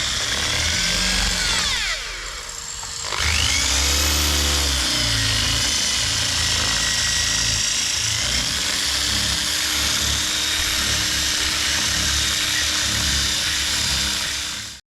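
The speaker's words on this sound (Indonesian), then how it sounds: "Jadi udah mulai dibor." A power drill bores into the A-pillar of a 4x4 to fit a mount, its loud continuous whine holding steady for most of the time with a short dip and a restart early on, then cutting off abruptly.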